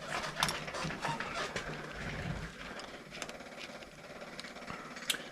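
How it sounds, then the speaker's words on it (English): The fuel pump on a Briggs & Stratton V-twin engine ticks and whirs steadily with a rapid ratcheting mechanical chatter. It sits low and close under a continuous hiss, with a few sharper clicks near the end. "I've got my fuel pump going."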